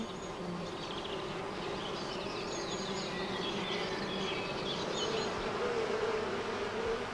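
Honey bees buzz in a dense, continuous swarm drone, fairly quiet and even throughout, with no talk.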